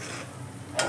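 Red potato pitha fries in hot oil while being gently stirred, a brief burst of soft sizzling with a louder scrape of stirring near the end.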